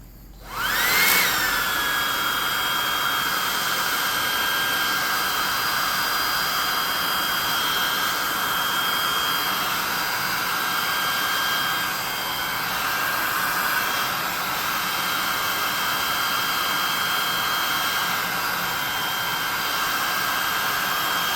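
A hot air gun blows on a painted tabletop miniature, switching on with a quick rise into a loud, steady whooshing whine with a high tone that runs continuously without a break.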